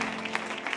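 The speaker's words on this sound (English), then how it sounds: "Let's give an applause to the Lord" Church youth service congregation clapping in praise, a brief, dense burst of many hands with a steady background tone beneath.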